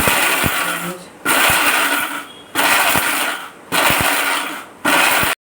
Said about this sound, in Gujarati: હવે આપણે એને મિક્સર જારમાં લઈ લઈશું।